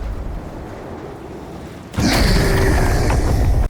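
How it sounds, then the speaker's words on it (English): The Doom Slayer slamming into the ground in the video game Doom: The Dark Ages, a sudden heavy booming impact after a low rumble, followed by a loud sustained crashing roar that cuts off abruptly. "the sound of the Doom guys slamming in the ground"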